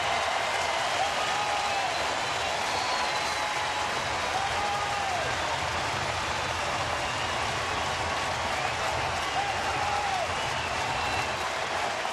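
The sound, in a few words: baseball crowd cheering on its feet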